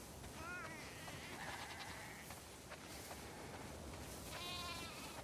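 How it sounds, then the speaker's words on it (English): Sheep bleat in a snowy farm scene from The Last of Us Part II, several wavering calls scattered through a faint, hissy background ambience. "Wow, that's a lot of sheep."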